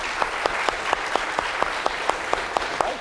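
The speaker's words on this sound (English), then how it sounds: "let's give our speakers one last round of applause" Debate audience applauding the speakers at the close of a socialism versus capitalism debate, a steady wash of clapping with a few sharper regular claps standing out, sustained throughout at moderate level.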